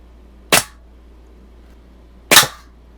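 Two sharp air rifle shots from a Daisy 853 fired at a root beer can, each a crisp isolated crack with a short tail, about two seconds apart and close by against a quiet background.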